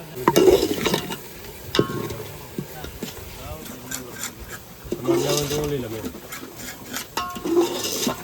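Gravy cooks in a pan, sizzling and bubbling steadily. A spoon stirs it and scrapes against the metal in repeated strokes. Voices talk over the cooking.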